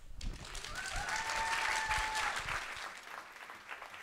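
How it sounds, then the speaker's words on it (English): Audience at a Harvard Shorenstein Center evening event applauding and cheering as guests are welcomed, a dense burst of clapping with whoops that swells and then tapers off. "So cool to have a cheering section."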